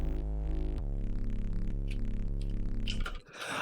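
Thick, loud bass synth layers throb in and out in a steady pumping rhythm, sidechained to an EDM kick in a production, before the sound dips and breaks up near the end.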